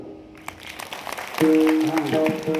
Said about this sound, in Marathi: वाजवा ना आता टाळी.